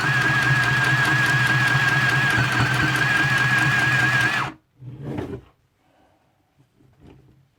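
A Hobbycraft mini sewing machine stitches fabric with a loud, steady, whirring motor hum and rapid needle chatter for several seconds, then stops abruptly, leaving a few short handling knocks and rustles.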